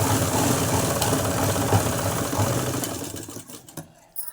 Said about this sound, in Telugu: ముందుగా నెక్ చుట్టూ ఒక స్టిచ్ అయితే వేసుకోండి